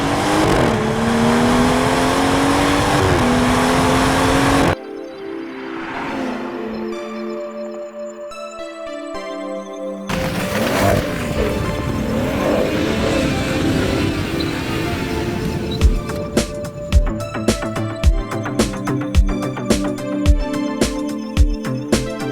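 Car accelerating hard down a strip, loud engine revving and roaring throughout with a brief change in tone midway, rising to a sustained high-revving run with sharp repeated bursts near the end.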